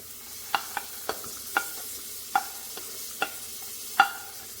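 Tomato and potato stir-fry in a pot for a mixed vegetable dal khichdi, a faint soft sizzle punctuated by about ten sharp spoon taps and scrapes against the pot.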